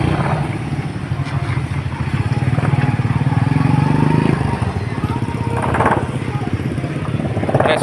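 A motorcycle carrying passengers on a ride, its engine a steady loud drone close by with slight revving swells and some road clatter, no talk over it.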